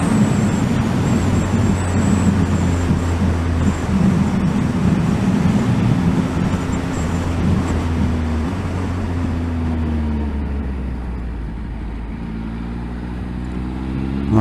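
A Triumph Speed Triple RS motorcycle ridden on the road, with a steady engine drone and wind rush throughout and rising and falling engine tones as it changes speed, no talk.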